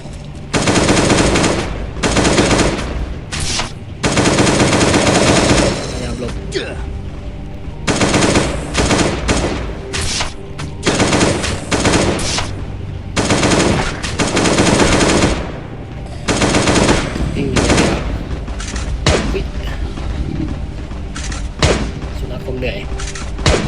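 Bursts of automatic gunfire from a weapon in a video game set in a port laboratory, loud, rapid volleys separated by brief pauses, with a voice talking over parts of the clip.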